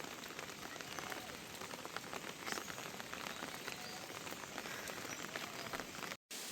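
Steady rain patters on a rooftop in a constant, soft hiss, with a brief gap near the end.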